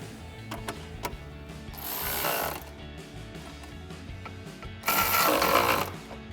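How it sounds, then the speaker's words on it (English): A socket wrench or flathead screwdriver working a hose clamp on a K&N Series 77 cold air intake, heard as close mechanical ratcheting clicks with two louder, rougher bursts of rasping noise. "You can use a flathead screwdriver or an 8mm socket for this."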